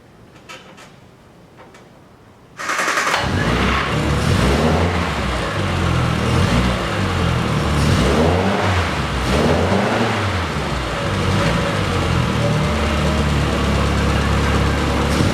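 A 1966 Triumph Spitfire engine cranks and catches after a quiet start, then runs loud and close at a steady idle with a throbbing, slightly uneven pulse and no voices over it.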